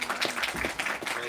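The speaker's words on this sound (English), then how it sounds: "Round of applause for our panelist and moderator." Short burst of audience clapping for panelists and a moderator at a clean air investment conference session, brief and moderately loud with some talk mixed in.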